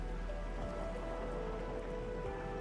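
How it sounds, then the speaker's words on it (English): Steady rain falls in a game world in Arknights: Endfield, a constant dense patter of drops on surfaces heard alone, with no voices. "It's raining harder."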